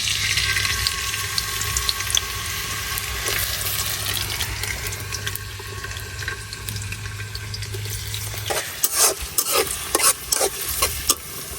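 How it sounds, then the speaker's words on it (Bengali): Onions sizzle in hot oil in a pan, a steady frying hiss under scraping stir strokes that grow sharper and more frequent toward the end. "তো প্রথমে এই পেঁয়াজ গুলা তেলের মধ্যে দিয়া দেন।"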